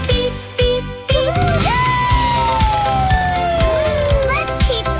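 A fire engine siren sweeps down in one long wail over bouncy children's music, with short electronic toy-like tones before it.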